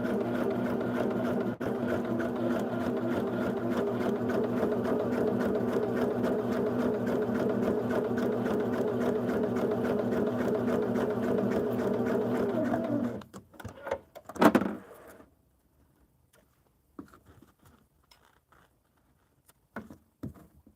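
A sewing machine stitches a quilt seam in a steady, continuous run for about thirteen seconds, then stops, leaving a few faint handling noises and near silence.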